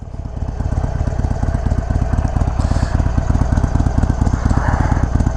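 A 2021 Harley-Davidson Iron 883 motorcycle idles up close with a loud, lumpy, rhythmic engine pulse that stays steady throughout, with no talking.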